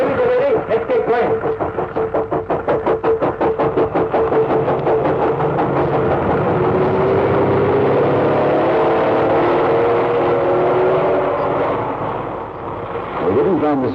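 Lorries rumble and drive off beside a railway embankment in an old-time radio drama sound effect, a loud rapid throbbing engine chug that gradually smooths into a heavy drone before fading.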